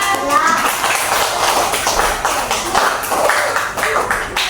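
Children clapping after a hand-puppet story, a loose burst of fast, overlapping claps with a voice speaking over them.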